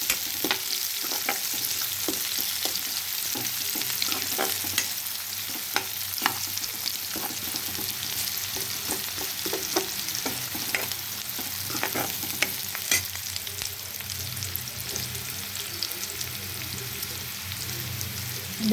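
Sliced onions fry in oil in a pan on an Indian home stove, giving a continuous sizzle with frequent close scraping and clinking as a spoon stirs them.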